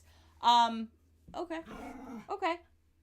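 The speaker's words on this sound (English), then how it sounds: "And now we have zoomies from the dogs." Dogs with zoomies, a sharp yelp followed by a string of whining, growling vocalizations and a final yip, close and clear against a quiet room.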